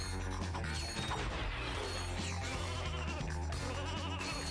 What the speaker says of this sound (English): this is the sheep